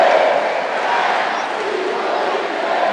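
Basketball crowd at a SESI Franca versus Paulistano game chanting a player's name, a loud, dense roar of massed voices sustained throughout.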